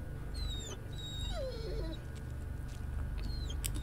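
A dog in the Blair Witch game gives soft whimpering whines over a low rumbling ambient bed, with a few high chirping tones scattered throughout; no speech.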